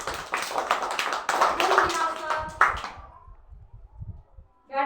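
Children in a classroom activity clap their hands together, a quick burst of sharp claps mixed with young voices that fades into near quiet before a voice returns.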